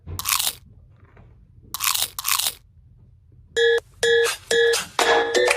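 Three crisp, close crunches of teeth biting into a homemade caramel apple treat come with quiet pauses between them, followed by a run of short electronic beeps.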